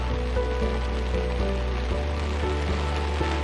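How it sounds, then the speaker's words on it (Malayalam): Rain pours in Kochi, heard as a continuous washing patter under a low steady hum, with no voices present. "കൊച്ചിയിൽ ശക്തമായ മഴയാണ്"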